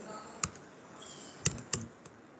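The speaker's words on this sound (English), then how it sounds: "I'll type the code." Code typed on a computer keyboard in a quiet room, a few sparse, faint key clicks spaced out with pauses between them, no talking.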